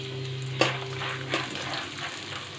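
Chickpeas, peanuts and grated coconut deep frying in oil, giving a soft steady sizzle with a sharp clink near the start and a few fainter scrapes after.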